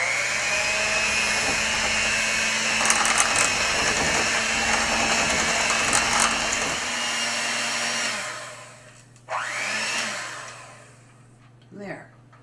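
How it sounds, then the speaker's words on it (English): Electric hand mixer whirring steadily as it blends cake batter with eggs, a loud continuous motor drone that cuts off partway, followed by a few brief scraping and clinking sounds. "Now I'm going to take my electric mixer, sort of stir it around a little bit first. And then blend everything together."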